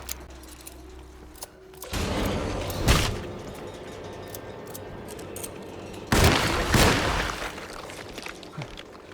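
Gunfire in the survival-horror game Alone in the Dark: two loud, near bursts of shots, a first volley and a second after a pause, each ringing out over a low rumbling ambient bed.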